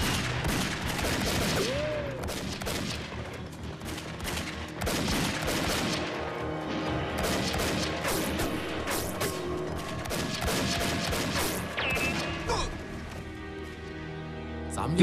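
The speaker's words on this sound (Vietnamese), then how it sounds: "Phía trước nổ súng rồi kìa." Gunfire from Japanese troops in a battle, dense rapid volleys and bursts of shots crackling continuously and fairly loud, with shouting voices mixed in.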